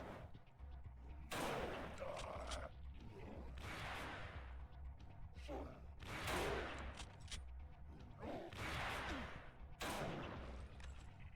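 Gunfire from the sci-fi shooter N.O.V.A., loud broadband bursts arriving in several separate volleys spaced a couple of seconds apart, over a steady low rumble of game ambience.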